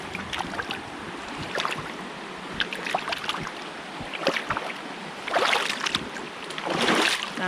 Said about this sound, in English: Right, let's get these wellies clean.